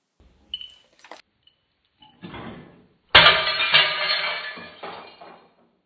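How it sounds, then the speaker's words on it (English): A glass tiki bottle smashes on a floor: a few small clinks and knocks lead up to a loud, sudden crash, followed by a scattering, tinkling spray of shards that settles within about two seconds. "So I ended up smashing a tiki bottle all over my floor."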